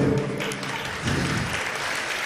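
Audience applause fills a stage performance by a comedy duo, a dense, steady clapping from a crowd that carries through the whole stretch, fairly loud and close, with faint voices mixed in.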